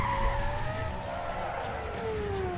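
Porsche Carrera GT in the Need for Speed Most Wanted racing game, a steady engine drone with sliding tonal whine of the revs and tire skid noise, loud and continuous throughout.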